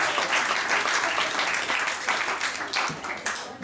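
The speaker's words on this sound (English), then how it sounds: "Round of applause for that" Guests at a wedding reception break into sustained applause after a best man's speech, a dense, loud roomful of clapping that holds steady for several seconds and then starts to thin out.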